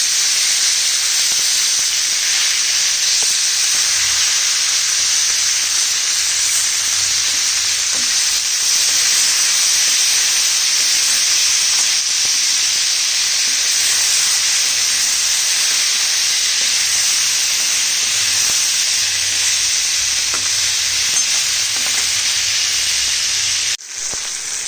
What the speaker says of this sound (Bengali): সামান্য নাড়াচাড়ার পরে আমি এর মধ্যে দিয়ে দিচ্ছি পুঁই মেটুলি পাতা।